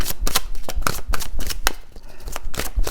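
Tarot cards being shuffled by hand, a rapid run of crisp riffling slaps and flicks, close and fairly loud with no talking.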